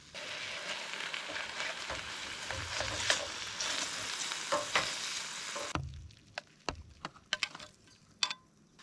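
Cold leftovers sizzle and fry steadily in a hot pan, with occasional stirring scrapes, then the sizzle cuts off abruptly and leaves sparse sharp clicks and taps.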